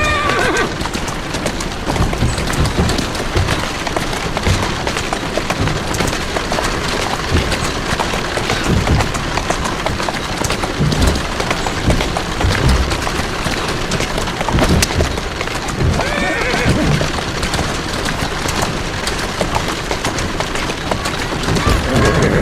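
A horse gallops and whinnies in Assassin's Creed Syndicate, loud steady clip-clop hoofbeats with repeated neighs running throughout, alongside occasional booming bursts.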